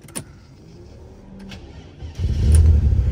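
A Mercedes-Benz W124 300E sedan with an automatic transmission starts up after a few faint clicks and a quiet pause, then catches into a louder, steady nearby engine rumble, with no talking.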